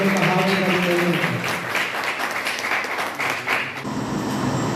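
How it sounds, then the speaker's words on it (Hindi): Audience at a Sindhi Panchayat gathering applauding to welcome a guest, a steady wash of clapping with a voice speaking over its opening moments. "तालियों से उनका हार्दिक अभिनंदन।"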